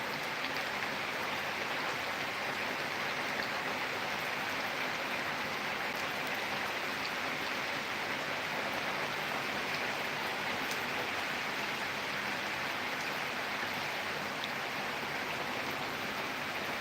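Steady, dense night rain hiss fills the whole stretch on a city street, a constant broadband wash of falling water with no voices or breaks.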